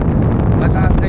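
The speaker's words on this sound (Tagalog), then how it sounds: "kung ganito kalakas ang hangin na dumadaan ngayon dito, negative" Strong wind sweeps across open ground in Batanes, Philippines, buffeting the microphone with a steady, loud, low roar throughout the short stretch.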